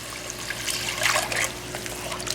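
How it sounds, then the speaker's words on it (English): Water trickles and splashes steadily into a cooking pot nearby, a soft continuous pour over a low background hum, with no voices. "now what I'm going to be doing is adding some water to the pot"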